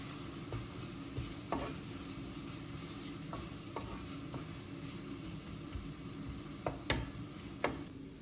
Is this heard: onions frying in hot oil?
yes